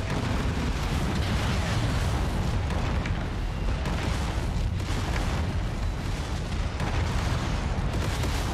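Heavy AC-20 autocannon fire from a mech in MechWarrior 5, a dense, continuous barrage of loud booming blasts with rumbling low end, sustained without pause across the whole stretch.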